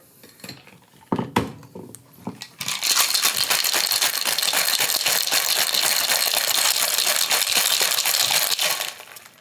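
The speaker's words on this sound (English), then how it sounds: "I've got a shaker full of ice. If you've watched this show before, you know what's coming up. It's the shaky shaky." A cocktail shaker full of ice, used for an apple bourbon drink, is handled with a few clinks and then shaken hard, giving a loud, continuous rapid rattle of ice lasting several seconds before it stops.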